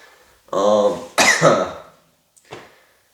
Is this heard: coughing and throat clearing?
yes